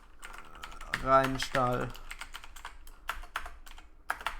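Keys on a computer keyboard click in quick, light bursts as a search term is typed, close and fairly quiet, with someone speaking briefly between the taps.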